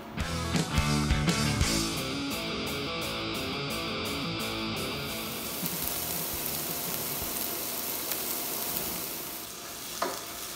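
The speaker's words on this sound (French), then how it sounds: "On va mettre un fond d'huile d'olive et nous allons commencer par faire suer l'oignon et l'ail." Onion and garlic sweat in a base of olive oil for Corsican bastelle, a steady close sizzle and crackle with stirring and pan clatter throughout, busier at the start and settling into an even frying hiss.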